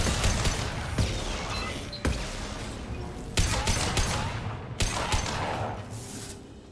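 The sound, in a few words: hacked defensive turret gunfire in video game Mass Effect 2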